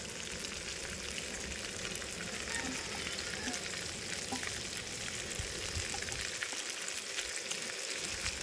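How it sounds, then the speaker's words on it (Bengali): Pitha frying in hot oil with coriander leaves: a steady, dense sizzle and crackle close by, continuous and even throughout, with no talking. "ভালো করে তেলের মধ্যে আমি ভেজে নেব"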